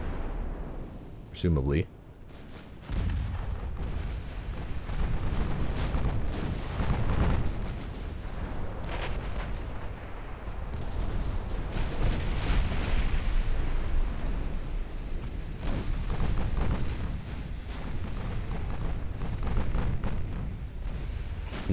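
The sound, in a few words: naval ship gunfire in video game Ultimate Admiral Dreadnoughts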